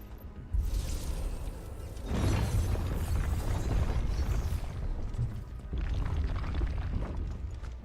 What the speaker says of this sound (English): They're exploding! I know what bombs do.